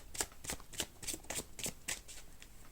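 A deck of tarot or oracle cards being shuffled by hand for a pick-a-card reading, a steady run of crisp riffling bursts about every third of a second, close and clear with no talk.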